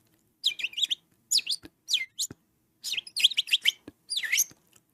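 Birds chirping in close, bright bursts of rapid tweets, several clustered phrases separated by short gaps, clear and fairly loud with no talking.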